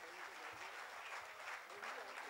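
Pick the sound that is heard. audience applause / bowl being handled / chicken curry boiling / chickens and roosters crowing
audience applause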